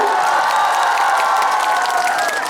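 A concert crowd in Korea applauds and cheers, loud and continuous, with a steady roar of clapping and voices and faint shouts on top.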